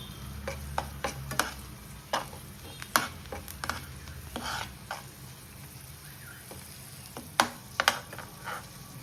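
Chilli powder mixture sizzles gently in a pan on a stove just switched off, under a soft frying hiss broken by sharp scraping and clinking stir strokes at irregular intervals, no speech.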